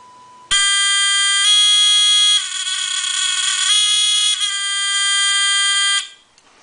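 A buzzer on a fischertechnik driving robot sounds one loud, harsh, steady electronic tone for about five and a half seconds, shifting slightly in pitch partway through, then cutting off, with no voices.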